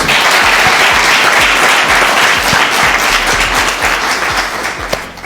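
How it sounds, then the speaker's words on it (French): Loud, close audience applause for a coach on a French café talk show, a dense steady clatter of many hands with distinct sharp claps, tapering slightly toward the end. "Applaudissements encore pour coach."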